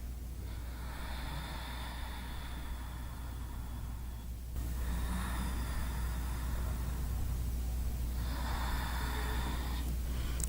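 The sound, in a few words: breathing during yoga exercise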